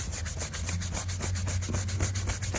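A Tub O' Towels wipe scrubs back and forth over a dirty surface, a steady, close rubbing with a regular rhythm and no voices.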